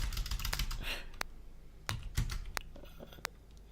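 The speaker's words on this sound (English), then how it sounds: "just started typing a Linux command there" Keys clacking on a computer keyboard as a Linux command is entered, a few sharp isolated taps and short bursts, close and fairly clear, with no talking.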